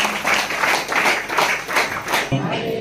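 Loud, steady clapping from a gathered congregation at a prayer meeting, sustained in dense bursts for a few seconds before easing off.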